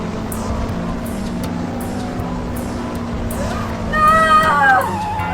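A police car chase sound effect from an audio drama: a steady engine drone runs throughout, then a brief rising whine or screech swells louder near the end.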